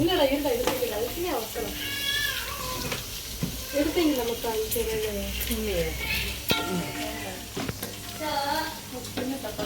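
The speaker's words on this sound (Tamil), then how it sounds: "இதை நம்ம இவங்க வதக்கிட்டு இருக்கும்போது" Onions being sautéed in a pan for biryani sizzle and crackle steadily, with occasional clinks of a utensil, under near-constant talking.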